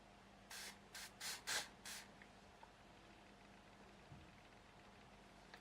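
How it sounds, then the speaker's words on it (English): Makeup spray is misted directly onto a face in five short, soft hissing bursts in quick succession, close to the microphone, followed by quiet room tone. "Should I try and spray it like directly onto my face and then see?"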